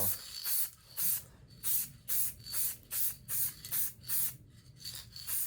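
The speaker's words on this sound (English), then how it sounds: "Is give this a quick spray down with the stuff I've been talking about" An aerosol spray can sprays in about ten short bursts onto a 3D-printed oil catch can holder, each a steady airy hiss lasting under a second, with brief pauses between, close and fairly loud.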